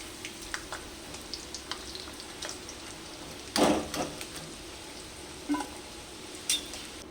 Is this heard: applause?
no